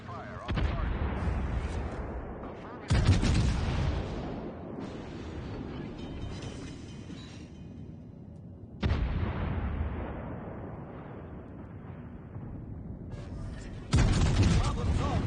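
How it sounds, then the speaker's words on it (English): Heavy warship guns fire in World of Warships Legends: four loud, booming salvos arrive several seconds apart, each trailing off into a rumbling decay, with a voice speaking between them. "All stations, concentrate fire on the target."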